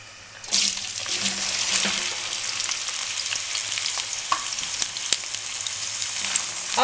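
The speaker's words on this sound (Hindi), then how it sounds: "अब इसमें हम बारीक कटे हुए प्याज डाल देंगे" Finely chopped onions dropped into hot cooking oil for Sindhi biryani, a sudden loud sizzle that sets in after a quiet start and keeps hissing steadily up close, with a few light clicks of stirring.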